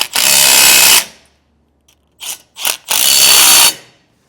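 A power tool with a 9/16 inch socket drives bolts on a DeeMaxx disc brake kit for a 2018 Keystone Cougar trailer: two loud, close ratcheting bursts of about a second each, separated by a few short clicks and brief whirs.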